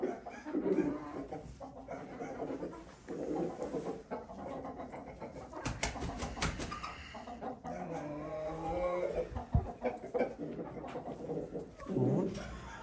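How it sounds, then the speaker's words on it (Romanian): A Belgian-line breeding rooster and hens cluck and murmur close by in a coop, soft irregular calls mixed with scratching and rustling, with brief sharp flutters partway through. "Un cocoș din linie de Belgia."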